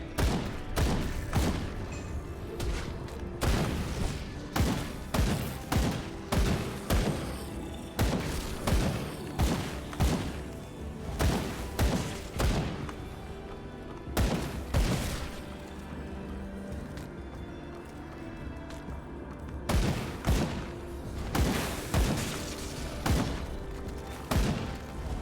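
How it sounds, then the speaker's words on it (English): Loud, rapid bursts of gunfire fill a video game scene as someone shoots at buildings, heavy reports and booms crowding together in irregular clusters with brief lulls between volleys, no voices. "He just started shooting buildings"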